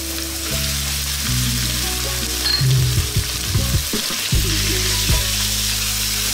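Minced pork sizzles steadily in a pan while being stirred continuously for a Filipino pancit palabok, with scraping and clattering bursts of the spatula over a constant close frying hiss.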